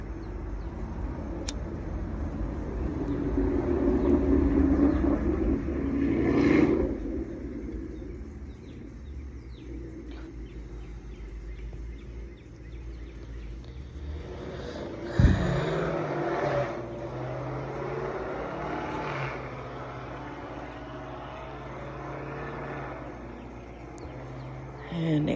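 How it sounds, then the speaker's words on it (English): A loud car drives past in the early morning, building to a swell of road noise. Birds chirp in the background, a sharp thump comes later, and someone talks intermittently over the scene. "here comes that guy, hold on, the loud car."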